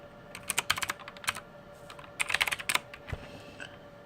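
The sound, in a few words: typing an object name on a computer keyboard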